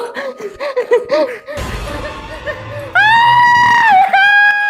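A young woman screams loudly and shrilly in a sustained, wavering cry that briefly breaks and resumes, following a stretch of voices and laughter-like sounds.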